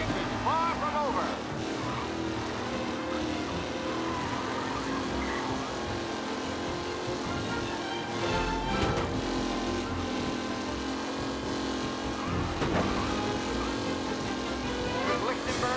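Race cars roar past in the Mafia: Definitive Edition racing event, a steady engine drone with broad road noise and whooshing surges as cars jostle close by, under a continuous wash of sound.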